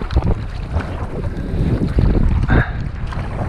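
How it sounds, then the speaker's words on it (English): Gusting wind roars steadily across the microphone while canoeing through a channel on a lake, with a low rumble and occasional swells of louder buffeting, alone without any talk. "it's getting windier"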